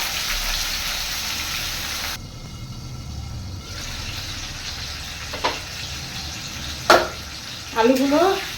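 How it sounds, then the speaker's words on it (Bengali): Potatoes frying lightly in a pan, a steady hiss of oil with occasional stirring clatter, while a voice speaks over it near the end. "আলুগুলো একটুখানি হালকা করে ভাজা করে নেব।"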